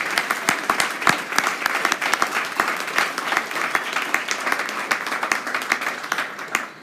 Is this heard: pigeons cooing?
no